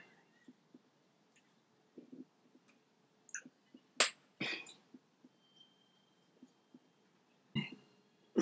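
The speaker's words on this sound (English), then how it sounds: "I felt the burp coming up." Short throaty burp during a seafood boil meal of king crab and lobster tails, rising among faint chewing and small mouth clicks in a quiet room, followed by a few more brief bursts.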